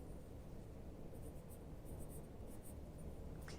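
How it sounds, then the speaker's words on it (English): Pen or pencil scratching across paper as color numbers for a coloring page are jotted down, a faint, steady scribble close by with no talking. "Write down my colors."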